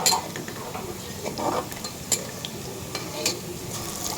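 Whole spices (cloves, cinnamon, cardamom and bay leaf) fry with onions in a pan, giving a soft steady sizzle broken by light clinks and scrapes of a spoon stirring.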